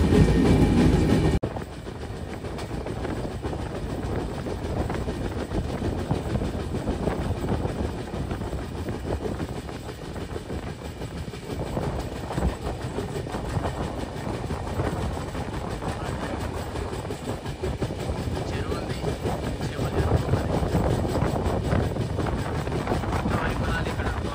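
A steady, loud rumble fills a passenger coach built by the Integral Coach Factory as it runs on rails, with dense clatter and continuous rolling noise throughout.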